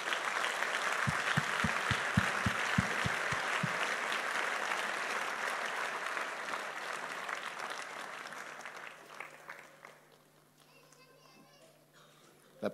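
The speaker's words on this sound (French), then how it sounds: "We can give the Lord a hand clap." A church congregation claps hands for the Lord in sustained, dense applause filling the room, with a few rhythmic claps up front and voices over it before it gradually dies down.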